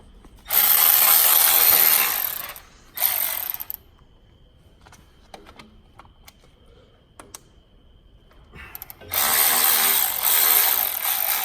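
A Milwaukee ratchet breaks loose the bolts on a 12-valve diesel P-pump injection pump: two loud bursts of rapid mechanical clicking, then quieter ticks and taps, then another long burst, all close.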